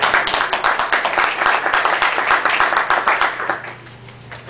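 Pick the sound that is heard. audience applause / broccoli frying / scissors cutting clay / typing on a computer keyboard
audience applause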